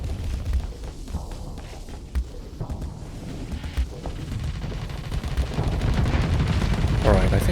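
Enemy ship weapons fire in the space combat game Starsector, a dense stream of sharp impacts and bursts with a rising, roaring bed of sound toward the end.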